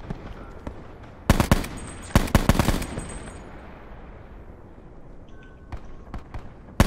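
Gunfire in Call of Duty: Black Ops 4, with two loud rapid bursts of automatic fire close by, then quieter scattered distant shots over a low background rumble.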